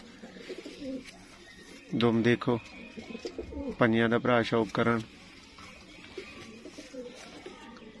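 Low, rolling coos from Sialkoti batera pigeons come in two bursts over soft background noise, while someone speaks between and around them.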